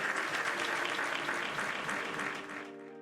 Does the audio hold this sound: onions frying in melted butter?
no